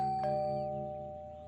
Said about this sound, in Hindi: अच्छा, डोरबेल बज रहा है।